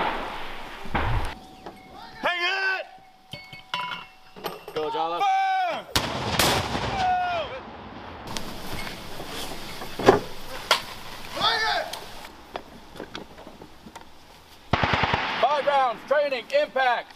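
Mortar rounds fired and impacting during battalion live-fire training at Camp Ripley, with heavy booming launches and distant blasts spaced across the clip, mixed with radio chatter and shouted commands between shots.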